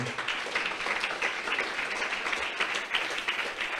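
A church congregation claps and cheers together in a dense, sustained burst of applause that fills the room for several seconds, without speech.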